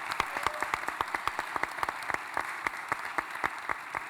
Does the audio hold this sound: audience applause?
yes